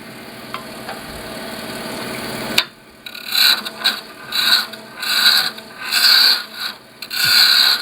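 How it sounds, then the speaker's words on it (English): A roughing gouge bites into spinning wood on a lathe while making an ice cream scoop insert: a steady motor hum gives way to a series of rasping, rhythmic cuts in roughly one-second bursts, loud and close. "I was putting a tool into the wood without being on a tool rest."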